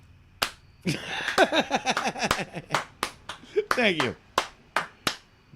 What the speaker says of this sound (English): We haven't had a slow clap on here in a fucking